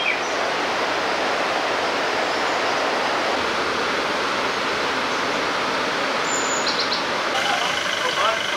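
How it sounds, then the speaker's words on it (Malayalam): Waterfall in misty hills near Kanthalloor, a steady broad rushing roar of falling water, constant and moderately loud, with no talk over it. "വെള്ളം ചാടുന്നുണ്ട്."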